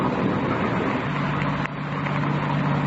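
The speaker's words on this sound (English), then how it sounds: "The car's coming up the road toward us, sounds like." A car approaches up a road in a radio drama scene with thunder, wind and rain outside, a low steady engine rumble under a wash of noise, moderately faint and distant.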